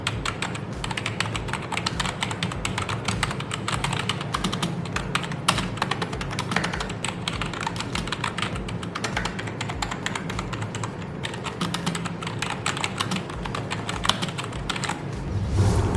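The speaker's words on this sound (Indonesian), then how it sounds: "Untuk feel tombolnya sendiri menurut gue sih cukup enak ya. Untuk keyboard membrane tekanannya menurut gue cukup pas." Continuous fast typing on an NYK Nemesis Eris K06 61% membrane gaming keyboard, a dense stream of soft, muted key presses at close range, with no voices over it.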